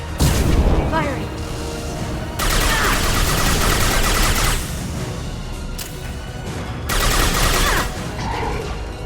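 Gunfire in Mass Effect 2 during the Lair of the Shadow Broker arrival, heavy bursts of shots and booms in repeated waves, loud and close, with voices talking between and over the volleys.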